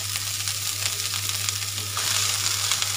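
Chopped spinach fries in a pan with a steady close sizzle and hiss, joined by faint stirring noises, and no one speaks.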